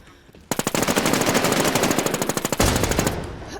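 Rapid automatic gunfire from the video game Infestation rattles loud and close in a sustained burst of evenly spaced shots, with no talk over it.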